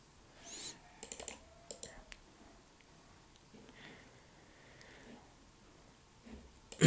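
Faint, sharp computer mouse clicks in a quiet room while saving a project in Visual Studio: a quick cluster of clicks, then a few scattered ones.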